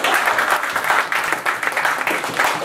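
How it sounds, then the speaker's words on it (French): Audience applause at a French cultural talk event on children's art, steady dense clapping throughout, fairly loud and close, with no speech over it. "On peut l'applaudir, hein?"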